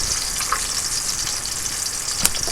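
Bacon frying in a pan, a close, continuous crackling sizzle with small pops and spits scattered through it, heard alone without talk.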